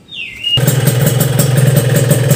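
A cold two-stroke motorcycle engine running on AGIP 2T Plus oil starts after a brief high whine, then idles loud and close with a rapid, throbbing, slightly uneven beat.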